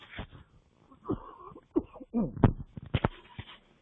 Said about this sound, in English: This cough is aggravating.